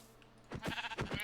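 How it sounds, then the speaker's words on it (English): A Minecraft sheep bleating twice in quick succession, a short wavering baa followed by another, close and clear against near silence. "Hey, sheep."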